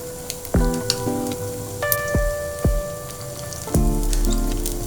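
A chicken dosa topped with egg fries on a pan with oil, a steady soft sizzle running underneath several ringing, tonal sweeps and clinks.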